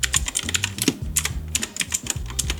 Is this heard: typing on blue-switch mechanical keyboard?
yes